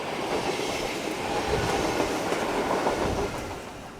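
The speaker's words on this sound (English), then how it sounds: "Here comes the train to Arendal." Train arriving at Haugsjå station on the Arendal Line in Norway, a steady, loud rolling rumble with faint clickety-clack of wheels on rails, holding level throughout and easing slightly at the end.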